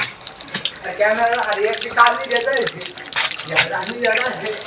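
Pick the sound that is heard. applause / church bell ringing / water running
water running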